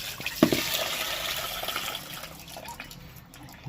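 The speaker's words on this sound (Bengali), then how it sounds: "তো আস্তে আস্তে এগুলোকে ধুয়ে নিই" Tap water runs steadily over freshly cut fish as it is rinsed, a close, continuous splashing hiss with a brief louder splash near the start.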